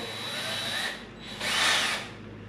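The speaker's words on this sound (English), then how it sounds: "Just going to drill out" A power drill whines in two short bursts, spinning up, easing off, then biting again briefly, close by with no talking, drilling a small hole in a Yamaha SuperJet.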